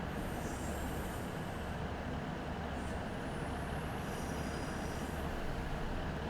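A tram train running through Cardiff in Wales in the Train Sim World 5 game, a constant low rumble of rolling wheels with faint high squeals rising and fading, steady and unbroken with no talk.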